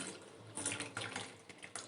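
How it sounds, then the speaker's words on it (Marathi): Water pours steadily from a tap into a cooking pot holding tomatoes, a faint, close splashing trickle with a few brief surges. "यामध्ये आपल्याला टोमॅटो बुडतील एवढं पाणी ॲड करायचं आहे."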